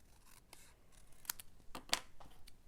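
Scissors snip through paper, trimming a paper circle for a handmade craft card, with a few short, quiet, close-up cuts spaced irregularly against near silence.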